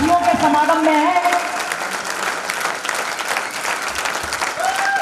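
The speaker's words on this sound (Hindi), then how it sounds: "एक बार इलाहाबाद वाली प्रयागराज वाली तालियां बजा करके देखो" A crowd at a speech event breaks into dense, sustained applause, loud and close, while a voice speaks over the start.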